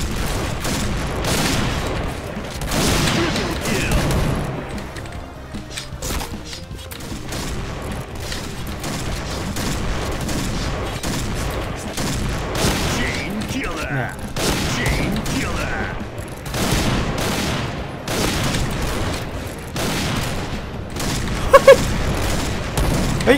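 Sniper rifle shots in a video game with an orange sniper, heard as sharp bursts over continuous game noise, under steady talk throughout.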